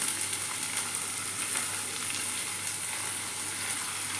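Ivy gourd with green chillies and onion sizzles steadily in a hot pan, a close, continuous bright hiss with slight crackle and no voices.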